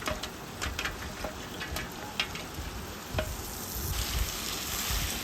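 Fried chicken being stirred into biryani masala in a pan, a soft continuous sizzle with scattered scraping and clinking of a spoon, growing slightly louder toward the end.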